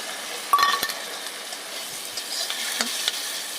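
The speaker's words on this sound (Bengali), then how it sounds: "ভালো করে মশলাটাকে কষিয়ে নেব। কষিয়ে নিচ্ছি।" A pan of spices with ginger-cumin paste, chilli, turmeric and salt sizzles softly as it is stir-fried, with scraping stirs and a couple of light metallic clinks near the start.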